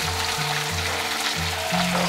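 Shrimp stir-fried in a wok with fermented black beans, salt, sugar and soy sauce, giving a loud, steady frying hiss with a low hum beneath and no clear stirring strokes or voices.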